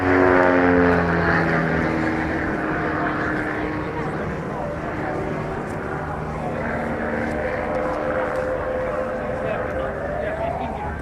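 A light aircraft with a 160 horsepower Lycoming engine performs aerobatics at an air show, its propeller drone steady and loud throughout with a pitch that slides down then rises, under a commentator's voice.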